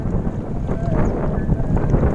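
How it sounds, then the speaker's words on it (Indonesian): Wind blows across a fish pond in the open, a steady, loud, low rumbling buffet that fills the whole moment with no voices. "Lagi berangin."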